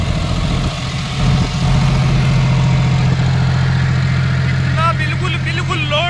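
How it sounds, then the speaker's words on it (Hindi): A John Deere tractor engine idles in a steady, loud, low chugging drone that holds an even pitch throughout, with a short burst of a voice near the end. "जरा सी भी आवाज बदल नहीं रही ट्रैक्टर की।"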